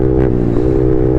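A loud aftermarket exhaust silencer on a Yamaha MT-15 motorcycle drones steadily at close range, a deep, constant rumble with a slight rise partway through.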